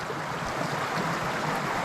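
A small waterfall in a wild Pennsylvania stream gives a steady, broadband rush of falling water, constant and moderately soft with no pauses, and no voices.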